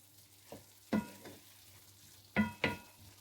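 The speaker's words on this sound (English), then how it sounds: "and I'm going to give that a good stir." Minced beef cooking in a pan for a hotpot, a faint low sizzle broken by a few sharp spoon scrapes and clacks as it is stirred, quiet and close with no talk.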